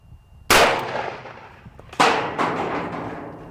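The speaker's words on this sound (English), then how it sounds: "this is a 44 Magnum against a bowling ball" Two sharp, loud .44 Magnum gunshots fired outdoors at a bowling ball, each a sudden blast with a ringing, decaying tail, about one and a half seconds apart.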